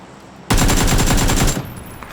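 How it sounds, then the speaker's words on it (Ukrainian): Rapid automatic gunfire in a multiplayer video game, one loud close burst of evenly spaced shots lasting about a second after a quiet start, then a softer trailing echo. "справа хтось стріляє"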